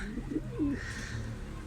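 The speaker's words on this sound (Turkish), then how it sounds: "Harika bir güvercin geliyor." A pigeon coos a few soft, throaty notes close by, with a steady background hum underneath.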